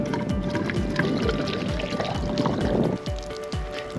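Water pours into a geocache hiding spot, making a close, rhythmic run of gurgling glugs and bubbly splashes that repeat steadily throughout.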